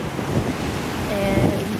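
Strong wind buffets the microphone on a cloudy, chilly California ocean shore, a loud continuous rush with surf rumbling underneath.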